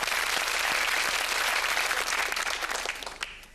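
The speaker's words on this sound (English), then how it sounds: "a round of applause for our contestants today" Studio audience applauding the game show contestants, a dense, steady burst of clapping that fills the room and fades out toward the end.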